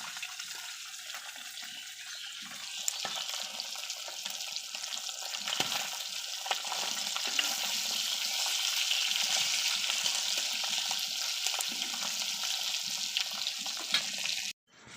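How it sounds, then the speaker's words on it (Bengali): Dakatia river fish crisp-frying in plenty of oil in a village kitchen, a steady dense sizzle and crackle holding close and even for the whole stretch before cutting off abruptly at the end, with no voices. "সবগুলো মাছ ভাজা হয়ে গেল, একদম মচমচে করে সবগুলো মাছ ভেজে নিয়েছি"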